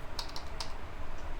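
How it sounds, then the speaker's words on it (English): Fingers tap out a short phrase on a computer keyboard, a quick run of close, light keystrokes in uneven bursts over a steady background hiss, with no voices. "we will simply write hello world"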